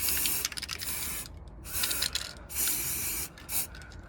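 A spray can coats a glass potion bottle for a Halloween craft, several close bursts of hissing spray separated by short pauses, with no talking.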